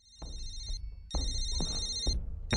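A telephone ringtone rings in repeated bursts with short pauses between them, fairly loud and clear with no talking over it.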